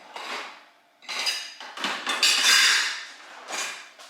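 Metal cutlery clinks and rattles in a kitchen drawer as a spoon is pulled out, a close, bright jangle in several bursts with no talking.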